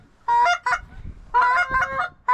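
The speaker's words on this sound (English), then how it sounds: "go get them geese, or they're gonna land out there" Geese honking in two loud bursts of overlapping calls, close by, during a goose hunt over open ground, with quiet gaps between the bursts.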